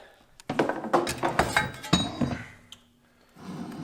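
A heavy cast R32 front suspension spindle is set down on a counter, giving a run of close, sharp metallic clanks and knocks over about two seconds before a quieter pause.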